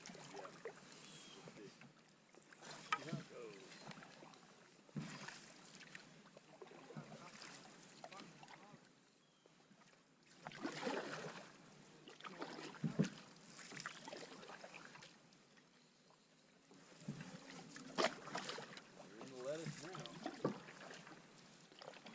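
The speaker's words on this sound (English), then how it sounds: "it's going to get a little deeper and will be easier to paddle" A canoe paddled through a shallow delta on Little Clear Pond in the Adirondacks, giving soft bursts of water swish and hull noise in three or four irregular waves, with a voice talking over it.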